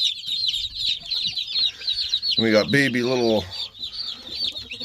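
Newly arrived meat chicks and Muscovy ducklings peep in a steady high chatter throughout, while a person speaks briefly in the middle over the birds.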